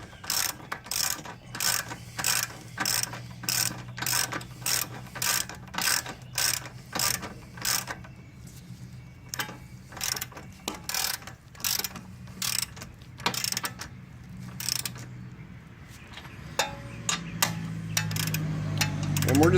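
Ratchet wrench with a 24 socket snugging a bolt during engine and transmission replacement on a 2013 Hyundai Sonata 2.4L, giving steady rapid bursts of close metallic clicking that pause briefly before resuming, with a low hum underneath.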